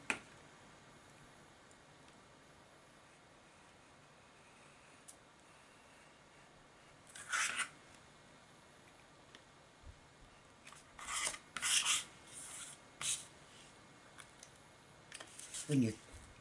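A craft knife trims the edge of a piece of card with a few quiet, scratchy cutting strokes in short bursts, heard against a faint, near-silent room background.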